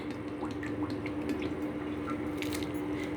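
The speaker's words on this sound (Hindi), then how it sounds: "अब मैं इसमें डाल रही हूँ रिफाइन ऑयल, क्योंकि पकोड़े को डीप फ्राई करना है।" Refined oil streams into a hot kadhai, making a faint, continuous liquid trickle with small dripping splashes.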